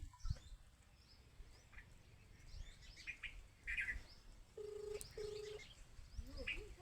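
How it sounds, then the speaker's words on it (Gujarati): A phone is dialed in a rural village, producing two short electronic keypad tones close together near the end, with birds chirping and faint background noise around them. "લાવો સરપંચને ફોન કરું."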